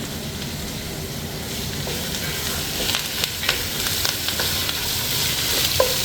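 Curry leaves sauté in hot oil in a home kitchen pan for a jackfruit curry, giving a steady hiss with a few sharper pops and crackles near the end and no talking.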